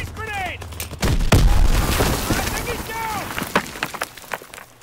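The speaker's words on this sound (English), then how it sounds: "Throwing grease grenade!" A grease grenade goes off in a video game: a loud, close blast erupts after a short pause and rumbles into scattered crackling pops, while voices sound briefly around it.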